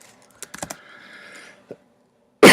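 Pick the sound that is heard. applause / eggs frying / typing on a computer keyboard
typing on a computer keyboard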